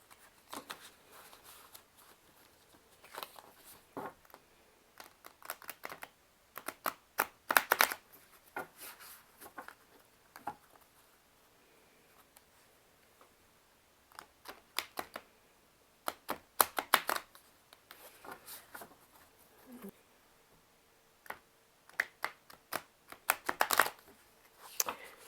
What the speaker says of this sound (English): go ahead and shuffle the cards.